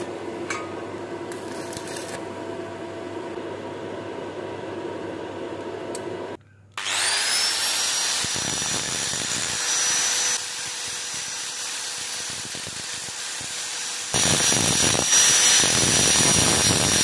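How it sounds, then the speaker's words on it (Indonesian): A homemade spade bit ground from an old planer blade bores into wood, a loud steady whirring drill with grinding and rasping that runs on and off, briefly stops, then resumes harder, with no talk. "ini alatnya sudah jadi untuk bobok kayu ya, atau ini membuat bor kipas."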